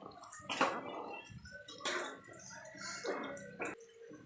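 About 1.5 litres of water for biryani is stirred in a pot, with close sloshing and swishing in uneven surges and small splashes.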